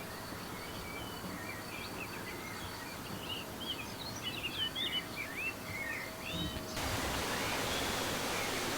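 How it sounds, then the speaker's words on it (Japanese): Birds chirp and trill in the open French countryside among vineyards, several light calls scattered over a steady outdoor hiss, moderately distant, with a brief louder burst of noise near the end. "鳥のさえずり、"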